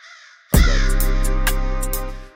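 A sampled crow caw is dropped into an FL Studio drill beat. After a near-silent moment, one loud, sustained, harsh caw rings out and holds for nearly two seconds, with crisp percussive ticks layered over it.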